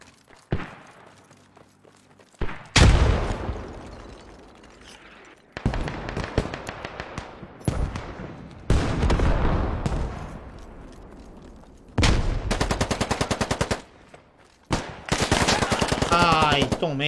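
Gunfire in a war video game: sharp single shots and long rattling automatic bursts, loud and close, separated by brief quieter gaps with footsteps.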